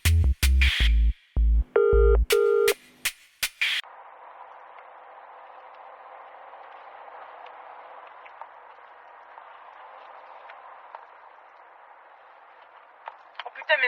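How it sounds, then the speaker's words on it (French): A phone on its own dials out: a quick run of loud, clipped electronic tones and beeps over about four seconds, then a steady, faint line hiss with a few tiny clicks near the end. "Mon téléphone, il téléphone tout seul."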